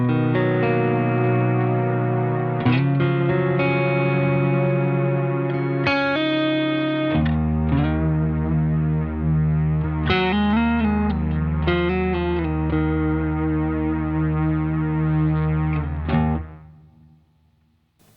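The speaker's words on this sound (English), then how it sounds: "It's on a pad sound, and it's mixed quite low against my dry signal." Electric guitar run through a pedal set to a soft pad sound mixed low beneath the dry signal, sustained chords and notes ringing with shimmering effects for most of the span before fading out at the end.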